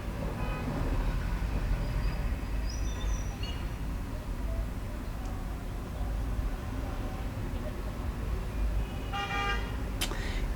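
Car horns honk amid continuous heavy road traffic in China, with short beeps scattered through a steady engine and road rumble and a louder burst of honking near the end.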